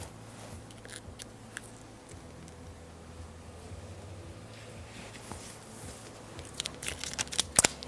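Scissors trim scrapbook paper wrapped over a cake board. The snips are faint and sparse at first, then several quick, sharper cuts come close together near the end, with no talking.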